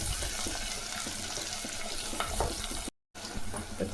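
Garlic and ginger fry in oil for a pepper-garlic kuzhambu, giving a dense, close sizzle with stirring clatter, briefly cut to silence near the end before the frying resumes.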